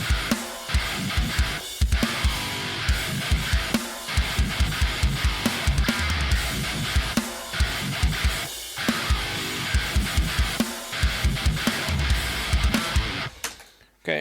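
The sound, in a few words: drum groove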